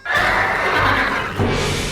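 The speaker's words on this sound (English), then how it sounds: "releasing the ghost of Captain Peghook and his steed, the Headless Man-Horse" A cartoon ghost horse, the Headless Man-Horse from DuckTales (2017), lets out a loud, sustained neigh that fills the whole clip, with a second surge of whinnying near the end.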